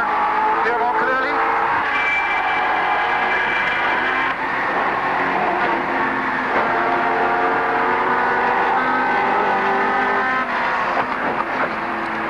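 Race car engine at high revs during the 1990 Bathurst race, a loud sustained whining drone with shifting pitch that runs throughout, with a voice talking over it at times.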